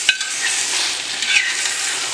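A mixed meat curry of mutton, chicken and fish sizzles in a pan while being gently stirred and mixed, a loud close frying hiss with soft scraping of the spoon.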